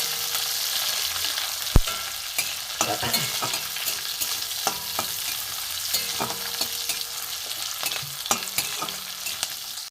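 Capsicum with chopped green chili fries in a pan, a steady close sizzle broken by repeated scraping stirs and a sharp knock near the start, with no talking.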